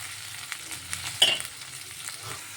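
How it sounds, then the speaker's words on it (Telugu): Curry leaves and coriander fry in hot oil with a soft, steady sizzle, broken by a brief sharp crackle and a few light stirring taps. "కరివేపాకు కొత్తిమీర ఇలా ఫ్రై అవ్వాలి"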